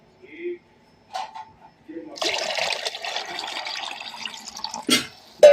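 Warm water pours into a bowl in a gentle, splashing stream lasting a few seconds, with brief speech and a few small knocks around it.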